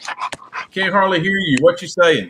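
A dog pants and whimpers in short, close, high-pitched bursts, mixed in with a person talking over a phone call.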